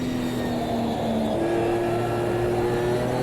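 An orange McLaren race car in the Automobilista 2 racing game at Snetterton drones past with a steady, loud engine note that shifts pitch midway, a continuous close roar with no talking.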